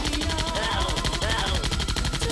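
Rapid automatic gunfire from the zombie shooter game Zombie Panic in Wonderland rattles continuously and loudly for the whole moment, dense bursts with no pauses between shots.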